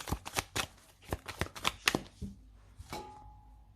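Tarot cards are shuffled and cut by hand in a quick series of papery riffles and slaps, close and crisp, ending with a softer card tap.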